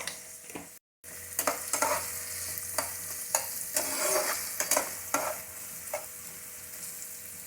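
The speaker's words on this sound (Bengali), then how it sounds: "আমার সবজিগুলো ভাজা হয়ে গেছে" Capsicum, beans and carrot, lightly salted, fry in a pan for basanti pulao, a soft steady sizzle broken by repeated spatula scrapes and stirs, with one brief silent gap near the start.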